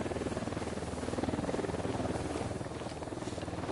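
A helicopter in the video game Ghost Recon Wildlands makes a steady, loud rotor chop with a rapid even pulse and a continuous engine whine. It holds close and constant for the whole stretch, with no voices.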